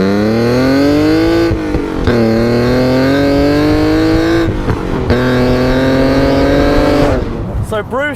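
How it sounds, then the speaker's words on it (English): Mazda MX-5 fitted with a 3.0 V6 engine revs loudly and steadily, pitch climbing through sustained pulls with brief dips between, close and dominant throughout. "And the noise, I mean, even if this had like 20 horsepower, with a noise like this"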